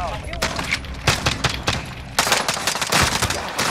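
Gunfire from a Warzone trios match with an XM4 rifle: dense automatic bursts and repeated shots, loud and close, broken by short gaps, with players' voices talking over the shooting.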